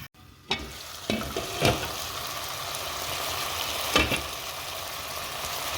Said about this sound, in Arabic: هسه نخلي الدجاج يحمس ويا البصل كلش يحمس